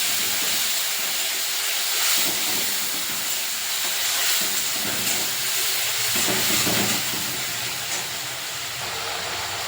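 Tomato paste fries in a pan with a continuous, fairly loud hissing sizzle that swells slightly at moments and carries on without talk.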